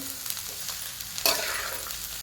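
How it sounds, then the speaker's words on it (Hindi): Onions fry in hot oil, a constant close sizzle that jumps sharply louder midway as if stirred or freshly added, then keeps hissing steadily without any voices. "अब मैं प्याज को तल लेती हूँ। तो हमें प्याज को अच्छी तरह से तल लेना है।"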